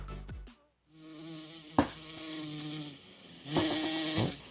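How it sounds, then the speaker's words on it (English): A bee buzzes close by on an outdoor disc golf course, its droning hum wavering in pitch as it moves around, with a few sharp knocks mixed in. "Oh, what's that noise? Oh, there's a bee."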